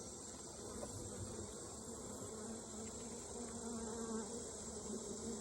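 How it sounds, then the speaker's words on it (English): Dense, steady buzzing of many honeybees close by in an open hive, a continuous swarming hum with no pauses. "I want to smoke the bees one more time because they're getting a little loud."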